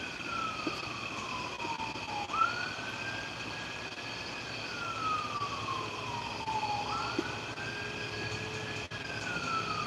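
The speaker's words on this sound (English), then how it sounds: "I hear sirens." Wailing emergency vehicle sirens rise and fall slowly in the distance from a nearby highway, heard at a campground, steady and moderately loud over a constant background hum.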